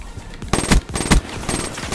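Loud automatic rifle fire from the M8A7 in a Call of Duty: Black Ops 3 multiplayer match, in rapid bursts of close, sharp shots that repeat across the moment.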